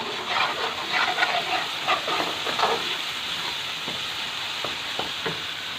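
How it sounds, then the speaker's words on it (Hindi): Spice masala made with homemade ground chili paste fries with a busy sizzle, with stirring scrapes and clinks that are louder early on and then ease into a steadier, quieter hiss. "इसलिए इसको थोड़ा ज़्यादा फ्राई करना पड़ता है।"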